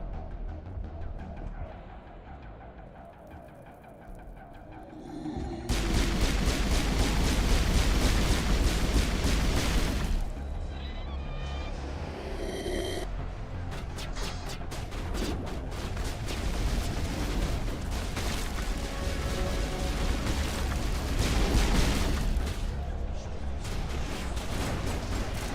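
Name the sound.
grenade explosions and gunfire in Mass Effect Legendary video game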